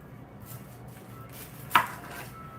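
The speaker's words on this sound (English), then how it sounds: "So I have a whole onion, medium yellow onion, that I'm going to chop up and throw in there." A medium yellow onion is chopped on a cutting board, with a single sharp knife strike standing out against quiet room noise.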